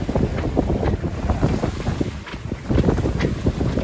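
A sailboat heeled over and running at about five knots purely under sail, with continuous wind buffeting and a steady rush of water along the hull, fairly loud and close, no voices.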